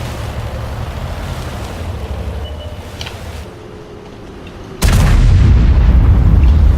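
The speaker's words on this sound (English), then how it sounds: "Oh, I love the sound of the guns." Video game guns fire over a low rumbling engine and water-like wash, then a sudden loud, heavy blast erupts and sustains near the end, with no voices.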